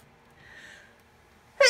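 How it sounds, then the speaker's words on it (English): A single short, sharp sneeze bursts out at the very end after near silence, close and abrupt. "I really did have to sneeze that time."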